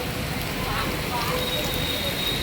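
Constant rushing hiss of rain or falling water, broad and unbroken, with faint scattered sounds mixed in.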